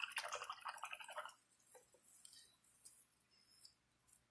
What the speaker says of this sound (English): I'm going to rinse my brush because I don't want that gesso getting all dry in my brush